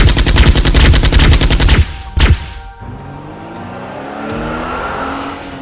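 A rapid burst of machine-gun-like gunfire effects in a Transformers stop-motion battle, a loud, dense rattle that cuts off abruptly into a couple of sharp blasts, followed by a lower whooshing, whirring tail.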